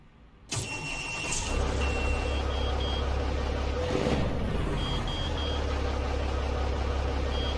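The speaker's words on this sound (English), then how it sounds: "the beeping stopped, so we've got enough air now" A Scania T4 truck, 810hp, in Euro Truck Simulator 2 starts up, then its engine idles loudly while short high warning beeps repeat in spaced groups above the rumble.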